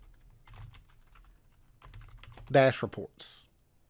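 A folder name being typed on a computer keyboard: a brief, quick run of soft, close key taps, with someone speaking at moments around them.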